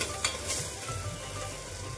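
Chopped onion frying in a pan for pav bhaji. It sizzles steadily up close, with a spoon scraping and stirring through it now and then. Nobody speaks.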